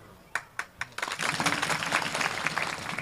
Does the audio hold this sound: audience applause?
yes